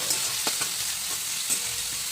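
Potatoes fry in cooking oil with a soft, steady sizzle up close, broken by a few quick stirring scrapes.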